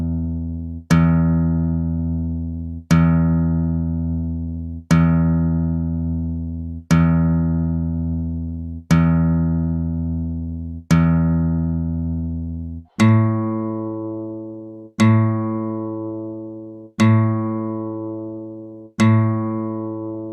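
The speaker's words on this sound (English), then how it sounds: "thick string made a really low sound, and then as the string gets thinner, the pitch is starting to get higher." Ten separate plucked strings ring out one at a time at an even pace, each decaying slowly. Strings of decreasing thickness step upward in pitch, with a clear jump to higher notes partway through.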